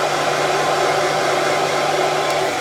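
A hair dryer blows steadily on fresh weathering paint on an N gauge model railway wagon, a loud, constant close-up whoosh with a low hum running through it and no pauses.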